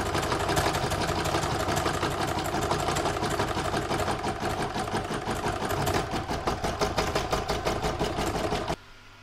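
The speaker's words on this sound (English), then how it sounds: "So I'm now going to pop this back in my machine and do the next round of stitching" A sewing machine stitches a fabric seashell catch-all with a steady, loud, rapid mechanical rhythm that runs continuously and then stops abruptly near the end.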